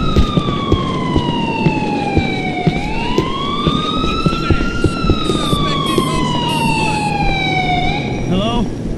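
Police car siren in GTA IV, wailing loudly and close, its pitch sweeping down, up and down again over several seconds, with a rumbling engine and traffic underneath.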